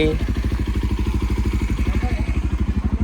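A motorcycle engine chugs steadily at idle after starting, a rapid even thumping rhythm, close and fairly loud throughout.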